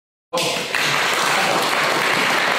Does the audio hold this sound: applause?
yes